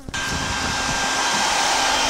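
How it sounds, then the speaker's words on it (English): A vacuum pulls bees out of a hive built inside railroad ties, a loud, steady, breathy roar that kicks in abruptly and holds constant throughout. "So I'm gonna start vacuuming them up and go from there."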